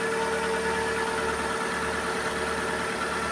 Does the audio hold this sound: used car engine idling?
yes